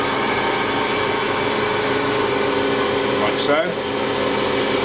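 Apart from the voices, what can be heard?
polishing wheel with compound polishing travisher blade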